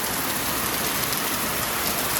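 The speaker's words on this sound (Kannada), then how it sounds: "ಮಳೆ ಮಾತ್ರ ಒಳ್ಳೆ ಹೊಡಿತಾ ಇದೆ, ಮಳೆ ಮಾತ್ರ." Heavy rain falling in Udupi, a steady, loud, even hiss of downpour with no breaks and no voices.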